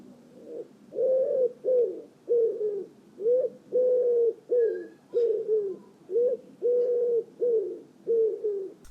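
A wood pigeon coos in a repeated rhythmic phrase, soft hooting notes in short groups, clear and moderately close against a quiet background.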